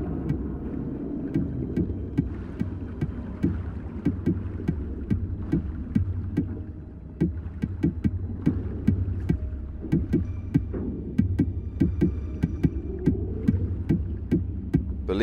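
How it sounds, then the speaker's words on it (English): Eerie underwater ambience from a hatch in the GTA 5 video game, with a low droning hum and steady metallic Morse code tapping that clicks irregularly throughout at moderate level. "this is Morse code, the tapping on the hatch"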